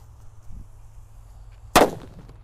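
A single loud purple "happy flower" firecracker bang bursts out after a quiet stretch, with a faint earlier pop and a short crackling tail.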